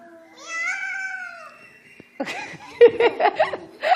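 Children's voices imitate a cat's meow in a scary, threatening way: drawn-out wailing meows first, then a burst of overlapping yowls and giggly cries close by, with some laughter.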